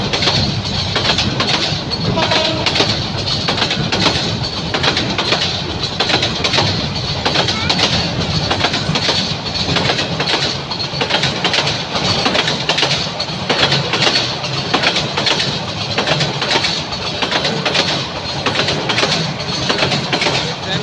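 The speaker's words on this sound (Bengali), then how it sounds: "দেখলেন কত সুন্দর একটি মালগাড়ি ট্রেন চলে গেল।" A freight train passes at night, its steady rumble and rhythmic clickety-clack of wagons holding loud and continuous throughout at close range.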